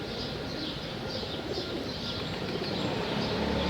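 A male pigeon coos in soft repeated phrases against a steady outdoor background, fairly faint and without talk.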